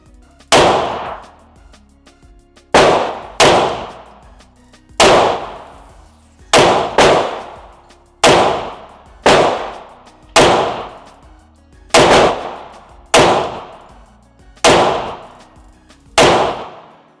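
Ten loud pistol shots from a Springfield Prodigy ring out one at a time at a slow, slightly uneven pace, each a sharp close crack with a short ringing decay, and no talk between them.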